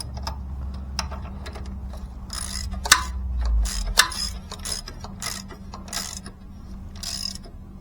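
Bolts being snugged down during reassembly, heard as bursts of quick mechanical clicking and ratcheting with sharper clacks in between, close and moderately quiet over a low background hum.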